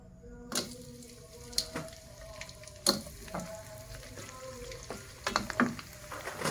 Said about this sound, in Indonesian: Kita sudah panaskan minyak ini ya, ini benar-benar panas. Kemudian kita goreng ya.